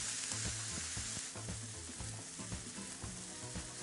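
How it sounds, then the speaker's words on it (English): Marinated steak for drunken fajitas sears on a very hot grill pan, giving a steady, close sizzling hiss throughout, with a low tonal hum faintly underneath. "We're going to put it on a really hot grill pan"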